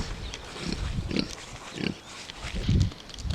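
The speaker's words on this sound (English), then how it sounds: "So in this first pen we've got our pigs and we've got 3 male goats." Kune pigs sharing a farm pen with goats give low, close grunts in short repeated bursts, about one every second, over a light outdoor background.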